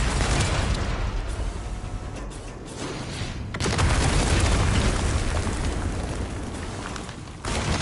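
Heavy mortar blasts in Resident Evil Requiem, dense broadband booms and rumbling debris filling the whole stretch with a fresh loud surge midway and another near the end, alone without talk.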